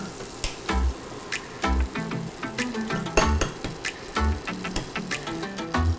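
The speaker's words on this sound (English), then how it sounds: "I'm gonna put a little bit of butter in here" Butter sizzling in a frying pan over low heat, a steady close crackle and spatter running throughout with recurring low thumps, no talk.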